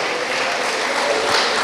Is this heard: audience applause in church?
yes